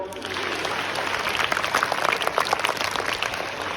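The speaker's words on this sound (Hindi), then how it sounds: "जोरदार ताली बजाओ" Students at a school road safety month celebration clap loudly, a busy crackle of many small hands that grows denser and more uneven toward the middle and continues at a fairly close, steady level.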